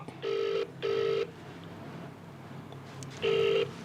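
A phone's ringback tone sounds in regular double pulses, repeating after a pause with no answer, over faint room noise, during a Telugu morning news headlines broadcast.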